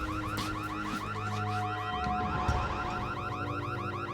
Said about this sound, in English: There was no reason for that alarm to go off.